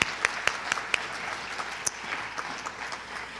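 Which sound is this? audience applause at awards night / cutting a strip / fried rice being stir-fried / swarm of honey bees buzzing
audience applause at awards night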